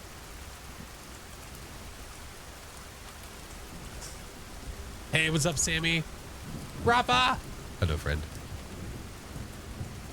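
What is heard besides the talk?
rain and thunder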